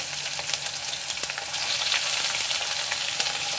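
Chopped chayote frying in a pan with mustard seeds and curry leaves, a steady, moderately loud crackling sizzle that swells slightly partway through, with faint stirring.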